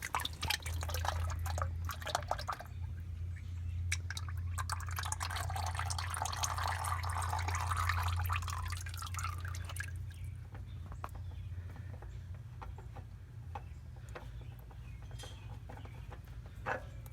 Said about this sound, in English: unscrew it and let the rest of the oil drain into the pan.